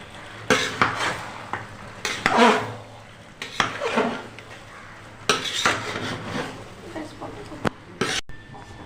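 A metal spatula scrapes and knocks against a pot while pressing down biryani, in a series of sharp clanks and scrapes separated by short pauses, with a faint sizzle underneath.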